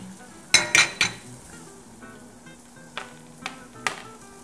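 Calabresa sausage dropped into a hot pan, a cluster of sharp metallic clanks followed by a steady low sizzle, with a few more clinks of utensils against the pan.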